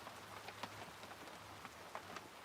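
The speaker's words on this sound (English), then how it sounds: "Can you hear that rain?" Rain falling on a rainy day in Rockport, a soft, steady patter of drops with a few slightly louder taps, faint and continuous with no voices.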